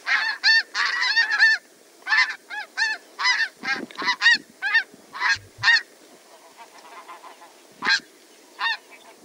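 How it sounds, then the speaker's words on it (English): A large flock of snow geese calling, dense repeated single-note honks in quick bursts, many birds at once, loud and close with overlapping calls and brief pauses between volleys. "Now for snow geese, they really just have one note in their call, but they do it really frequently."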